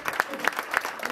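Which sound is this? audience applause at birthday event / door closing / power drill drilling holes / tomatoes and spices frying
audience applause at birthday event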